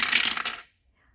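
Three dice are rolled onto a surface in a quick, bright clatter of several small impacts that lasts about half a second and then cuts to silence.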